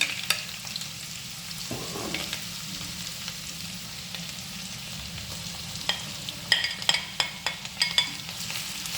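Ginger, garlic and green chillies sauté in hot coconut oil with a steady, quiet sizzle, a brief scrape of stirring near the start and sharper clinks of utensil on pan toward the end; no one speaks.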